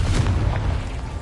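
A Confringo fire-blast spell goes off in Hogwarts Legacy during a Merlin trial, a single deep, close boom that rumbles and fades over about a second.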